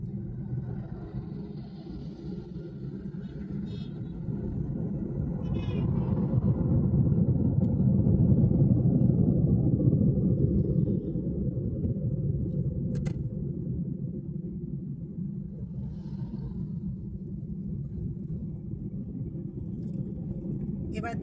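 Car driving along a road with speed breakers, shifting up into fourth gear; a steady low engine and road rumble swells in the middle, then settles, while a voice talks throughout.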